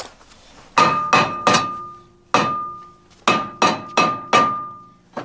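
Sharp metallic strikes ring out as a Mazda Miata brake rotor bolt is broken loose, first a quick triple, then a single blow, then four more, each leaving a bright ringing tone.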